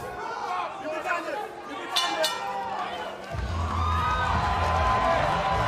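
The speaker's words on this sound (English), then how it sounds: "Fans appreciate it. They let the hometown favorite Alvin Hines hear it." Hometown crowd at a Mystic Lake fight event cheering for fighter Alvin Hines, a steady roar of voices and whoops rising and swelling through the clip, with a commentator talking over it.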